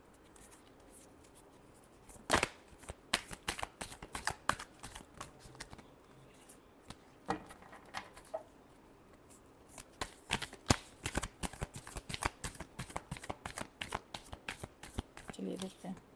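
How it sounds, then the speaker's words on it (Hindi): Tarot cards shuffled by hand in a steady run of crisp riffling bursts and slaps over about sixteen seconds, close and fairly loud, with a few short pauses between shuffles. "Last shuffle."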